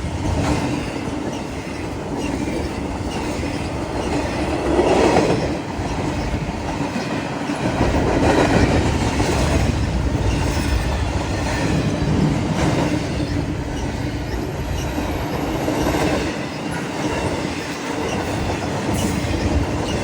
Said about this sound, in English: this train got here a lot quicker than I thought it was going to